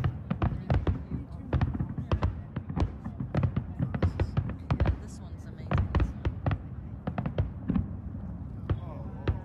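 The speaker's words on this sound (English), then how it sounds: "Fireworks in Auckland were really impressive." Rapid, dense New Year fireworks bursts over Auckland near the Sky Tower crack and pop continuously over a low booming rumble, with a faint murmur of people in the background.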